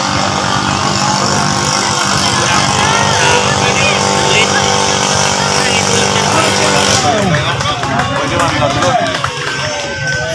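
Racing boat engines roar at the finish line of a 2022 Philippine bangkarera boat-race championship, one engine with trouble. A loud, steady motor drone pushes on throughout with a pitch shift near the end, and voices talk over it.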